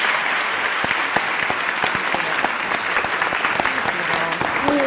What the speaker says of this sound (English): Ladies and gentlemen, let's give a big round of applause for Ms.